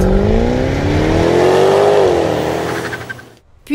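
A Jaguar F-Type sports car engine revs hard and climbs in pitch as it accelerates, loud and close, then eases off with a brief pause before a final burst, with no voices.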